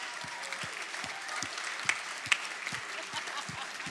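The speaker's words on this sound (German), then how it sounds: "Einen großen Applaus für unsere Aida-Stars" A studio audience applauds dancers, a soft wash of clapping heard at a distance over a steady, regular thumping beat.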